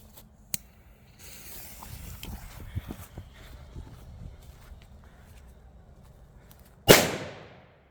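Faint rustling and scattered small knocks, then one sharp, loud bang from a 1.8-gram S3 firecracker near the end with a quick decaying ring.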